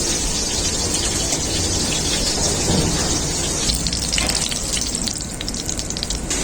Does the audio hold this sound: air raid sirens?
no